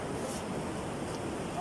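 Big ocean waves roll onto a beach at a sea turtle hatchling release, a continuous roaring surf wash with wind buffeting the microphone, steady and fairly close.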